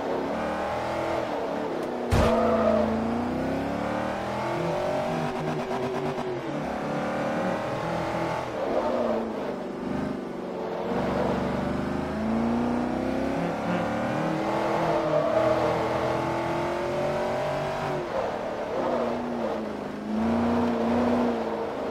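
A Class A race car in Forza Motorsport 3 revs hard throughout, its engine note climbing and dropping repeatedly with gear changes, steady and close with no talking.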